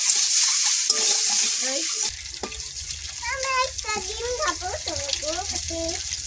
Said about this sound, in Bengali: লবণ হলুদ দিয়ে ডিমটা ভেজে নেবো